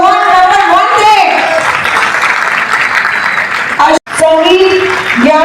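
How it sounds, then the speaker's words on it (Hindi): Audience applause fills a theatre auditorium, Panchjanya Prekshagrah, after the stage play Kangan, a loud sustained wash of clapping with a voice speaking over it and a brief cut near the end. "मैं बुलाना चाहूंगी स्टेज के नीचे सोनू शर्मा जी के लिए जोरदार तालियां"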